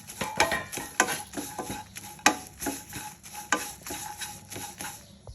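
Dry red chillies roasting in a pan, with a spoon scraping and stirring in irregular knocks and clinks against the metal over a faint background, no talking.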